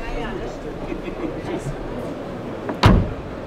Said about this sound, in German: So, die Tür wird geschlossen.